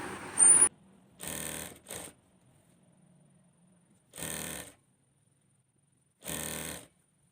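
A sewing machine stitches gown material in short bursts, four or five runs of rapid mechanical whirring separated by silent pauses, close and fairly loud.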